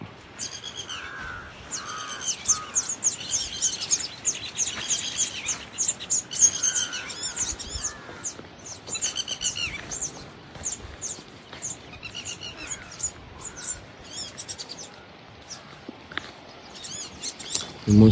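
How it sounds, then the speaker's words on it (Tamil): Weaver birds chirp busily around their hanging nests beside a restored lake, a dense chorus of bright, rapid calls rising and falling throughout, fairly near and without talk. "குருவி சவுண்டு கேட்குது, உள்ளே இருக்குது."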